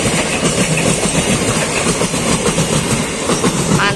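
A Tokyo Metro 6000 series electric commuter train rumbles steadily past at close range near a track switch in Depok, a loud continuous roar of wheels on rails with faint clickety-clack, no voices.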